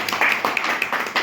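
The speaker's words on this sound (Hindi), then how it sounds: "पहले तो अपने लिए ही ताली बजाओ" A crowd claps at a farmers' assembly on Farmers' Day, a brief burst of scattered hand claps with uneven rhythm, moderately loud and fairly close, with no one talking over it.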